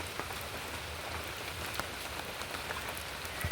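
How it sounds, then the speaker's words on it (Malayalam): Steady rain falling outdoors in a Kerala setting, an even, close hiss of drops on surfaces with occasional louder patters, continuous and unbroken with no voices. "അക്കരെയൊക്കെ നല്ല മഴ പെയ്തോണ്ടിരിക്കുകയാണ്"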